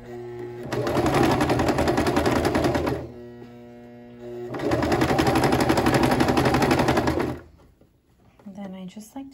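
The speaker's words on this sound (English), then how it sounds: "you're sewing down this, and you don't want to accidentally sew way over here" A sewing machine stitches down a dress seam on fabric in two loud, steady bursts of rapid mechanical whirring separated by a pause, then stops as a person begins talking.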